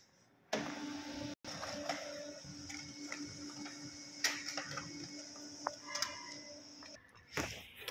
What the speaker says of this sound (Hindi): प्रिंटर को ऑन कर दिया है और हम प्रिंट निकाल लेंगे